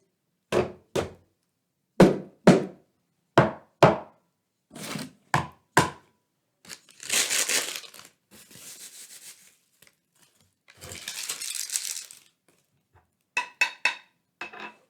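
A series of hollow knocks on lids struck one after another, stepping from low to high pitch, with a couple of scraping rubs in between and quick taps at the end.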